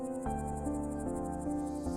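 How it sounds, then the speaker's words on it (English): Cicadas sing in a steady, loud, pulsing chorus of high buzzing trills, with a low tonal drone beneath and soft bumps recurring every few fractions of a second. "Leaves rustle, cicadas sing."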